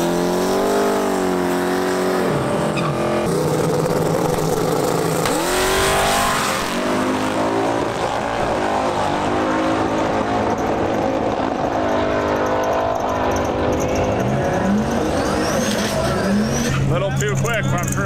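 A small drag racing car engine, resembling an old bracket car, revs and roars loudly throughout, with rising and falling pitch, and people talking over it.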